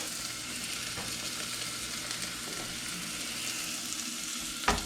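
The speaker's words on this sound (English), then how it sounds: "A nice little sizzle that we all love." Onions and garlic sizzle in a hot pan while a seared pork chop meal is cooked, a steady, even frying hiss that holds throughout, ending with a sharp clink near the close.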